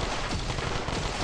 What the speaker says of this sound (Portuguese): É só dar muito tiro aqui no zumbi que já era